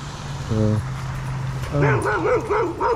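Dogs bark a couple of short, nearby yips beside a pond, with a voice talking over them.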